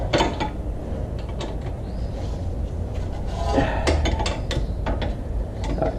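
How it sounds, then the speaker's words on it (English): Wrench clicking and clanking against a 10mm caliper bracket nut as it is broken loose on the rear brakes of a 2014-2018 Jeep Cherokee KL, a steady run of close metallic ratchet ticks and knocks over workshop noise. "That is a 10mm nut, and we're gonna break that loose here. Need a wrench."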